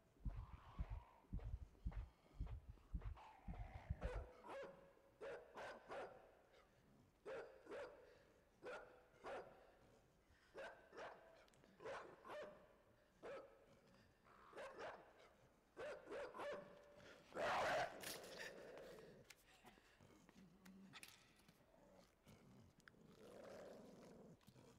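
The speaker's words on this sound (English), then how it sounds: "Dogs aren't supposed to sound like that." A strange, distorted dog in the video game Inside gives a run of loud, deep bark-like bursts at first, then a series of rough, growling roars and yelps spaced through the scene, with no voices.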